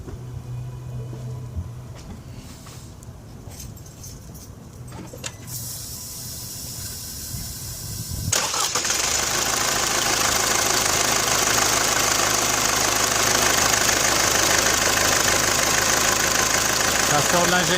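Quiet rustling gives way to a Mercedes-Benz C220 CDI diesel engine starting up and running loudly close by, with a rough, knocking clatter that continues steadily, from a leaking injector.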